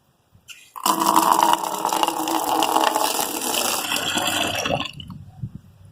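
Tap water pours steadily into a container set up for rooting pandan cuttings. The flow is loud and continuous for about four seconds, then tapers off into a few faint drips.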